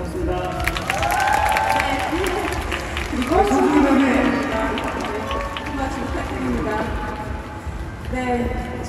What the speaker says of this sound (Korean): 조성희 감독님에게 박수 부탁드립니다